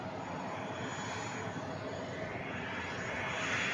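Steady, moderately quiet broadband roar of an airplane's engines from inside the cabin during a flight toward Bali, continuous without breaks or talk.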